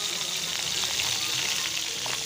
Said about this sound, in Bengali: এবারে এই সবজিগুলি সব আমি একসাথে খুব ভালো করে ভেজে নিচ্ছি।